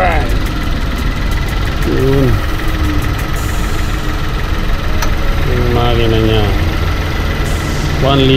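A new Nissan Almera's 1.0-litre turbo engine idles with a steady, loud mid-pitched hum throughout, while someone speaks over it in several short bursts.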